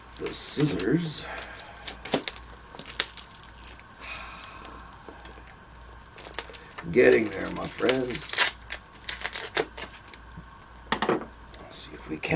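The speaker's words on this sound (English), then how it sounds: "now we'll move in with the scissors." Scissors cut through the packaging of a parcel being unboxed, with close crinkling and tearing snips that come in uneven bursts while someone talks over them.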